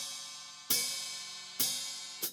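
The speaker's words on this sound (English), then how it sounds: "And I get that sound by tapping on the hi-hat and" Three splashed hi-hat hits on a drum kit, tapped and quickly released so the pair of cymbals clash and ring out with a bright, slowly decaying wash, heard up close with nothing else.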